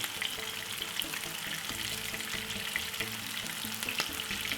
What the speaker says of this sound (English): A little bit of vegetable oil, basic olive oil. Let them fry.